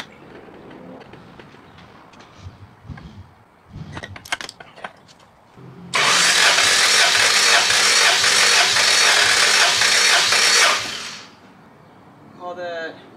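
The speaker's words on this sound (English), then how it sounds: "Does it skip a crank? Does it crank too fast?" A car engine is cranked over during a compression test: after some scattered clicks and handling noises, a loud, steady five-second burst of cranking with rhythmic low pulses, then quiet with a faint sound at the end.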